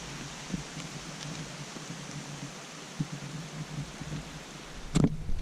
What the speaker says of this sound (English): It's been pissing down rain, everything's drenched.